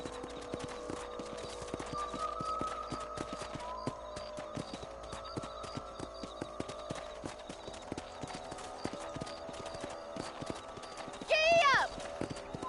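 Horse hooves clip-clop steadily in Red Dead Redemption, a quiet rhythmic trot under game voices, ending with a short whinny near the end.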